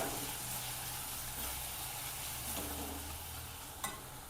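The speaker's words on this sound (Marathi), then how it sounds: "थोडं परतून घेऊया आपण।" Ground spices including chilli, turmeric, coriander, cumin powder and garam masala sauté in oil with a faint, steady sizzle and a few soft stirring scrapes, one sharper clink near the end.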